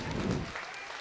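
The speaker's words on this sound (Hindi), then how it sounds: "जोरदार ताली हमारे नेताजी के" An audience at a school annual function drama claps, a dense burst of applause that fades quickly within about a second.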